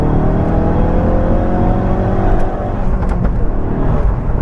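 Ford Focus RS with Collins CP2 Mk3 performance upgrade accelerating, a loud steady engine roar heard close throughout, with no talking.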